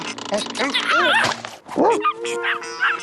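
Cartoon dogs yip, bark and whimper in a quick, busy burst, close and loud, with some animated vocal effects mixed in.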